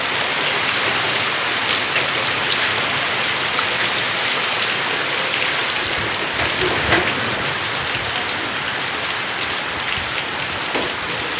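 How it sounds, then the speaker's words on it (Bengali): Heavy rain pours steadily, a dense, constant hiss of drops drumming on surfaces, loud and close with no voices. "দেখো দেখেছো, দেখো দেখেছো কি বৃষ্টি"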